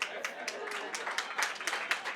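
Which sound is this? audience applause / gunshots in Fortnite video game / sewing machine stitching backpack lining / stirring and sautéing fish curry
audience applause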